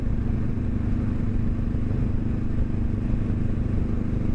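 A Honda CB500F motorcycle engine hums steadily while riding on the street, a loud, dense, continuous low rumble mixed with wind noise and no pauses.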